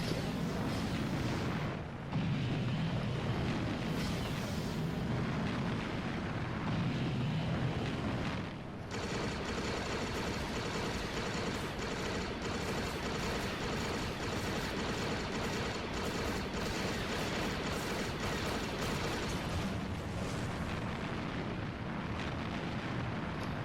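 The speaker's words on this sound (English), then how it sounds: "now you see as we've got fuel explosions occurring" Continuous loud rumbling blasts and booming fuel explosions in Disney Infinity 3.0, with dense crackling roar throughout and a brief dip before it surges again.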